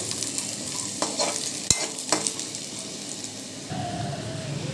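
Ingredients for a chutney being dry-roasted and stirred in a pan, giving a steady close sizzle with a few sharp scrapes and clicks of a spoon against the pan.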